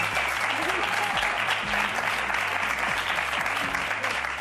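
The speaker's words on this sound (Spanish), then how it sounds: "Un aplauso para ellos." Studio audience on a Spanish TV game show applauds the contestants, steady sustained clapping at an even level throughout, with faint music or voices beneath.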